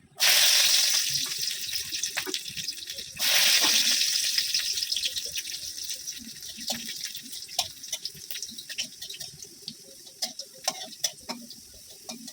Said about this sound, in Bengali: এখন কলপার থেকে ধুয়ে আনবো